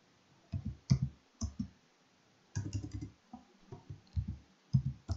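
Computer keyboard typing, several short clusters of soft, close clicks separated by brief pauses, quiet and uneven in rhythm.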